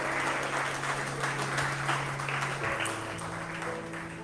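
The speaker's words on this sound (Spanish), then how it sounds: "Denle palmas al Señor." A church congregation claps for the Lord during a Spanish-language sermon, a dense, steady roar of applause that fills the whole stretch and eases slightly toward the end.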